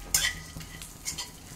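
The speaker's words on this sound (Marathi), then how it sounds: "आता आपले ड्रायफ्रूट पण भाजून झालेले आहे।" Dry fruits with raisins, melon seeds and pumpkin seeds roasting in a pan, with a few brisk scrapes and clinks of a spoon stirring over a soft background hiss.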